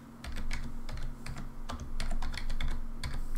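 Typing on a computer keyboard while writing game code, a quick run of close, irregular key clicks and taps against a steady low hum, with no talking.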